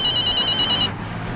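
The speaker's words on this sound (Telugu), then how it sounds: "ఉండు సెల్కి ఫోన్ చేసి వస్తా" A mobile phone rings with a bright electronic tone, loud and steady for under a second before cutting off, leaving only background hiss.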